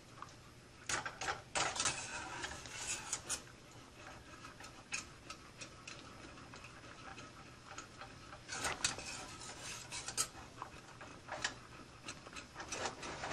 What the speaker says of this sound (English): you have to stir constantly